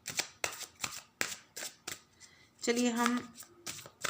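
Tarot cards are shuffled and handled in quick riffling bursts with sharp flicks and slaps, close and crisp, while a person speaks briefly partway through.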